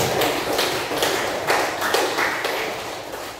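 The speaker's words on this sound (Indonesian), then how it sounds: "Tepuk tangan dulu kepada" A classroom of students claps for a classmate in a school lesson, a dense, steady patter of hand claps filling the room at close range, with no talk over it.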